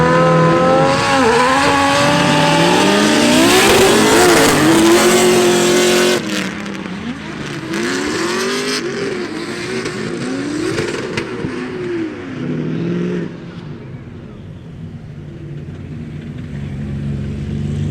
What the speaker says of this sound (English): first fourth gear drifting in the E36